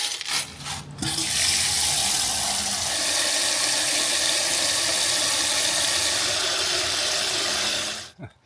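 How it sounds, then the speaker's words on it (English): A solar water pump circulates water in a DIY garden water feature, making a steady, close splashing and trickling rush that starts after a second of clunks and runs continuously before cutting off near the end. "Let's see if this cloudy cloudy day will allow for a solar water pump. It is working."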